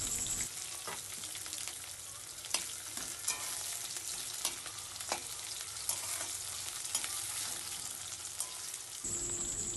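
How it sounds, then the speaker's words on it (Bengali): Onions, whole cumin seeds, dried red chilies and green chilies fry in hot oil in a pan, giving a steady close sizzle with soft stirring scrapes and occasional sharp pops, no voices. "ওই তেলের মধ্যে এবার গোটা জিরে আর শুকনো লঙ্কা দিয়ে দিলাম, আর কাঁচা লঙ্কা এর মধ্যে দিয়ে দিলাম, আর পেঁয়াজগুলো এর মধ্যে দিয়ে দেবো।"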